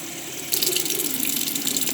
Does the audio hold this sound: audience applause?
no